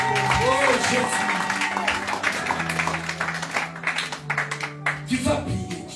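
A church congregation claps and cheers in praise, a loud, busy spread of hand claps and crowd voices that thins out toward the end, with a voice over the top.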